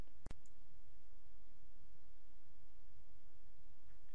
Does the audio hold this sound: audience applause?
no